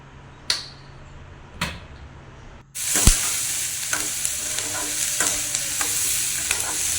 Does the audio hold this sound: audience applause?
no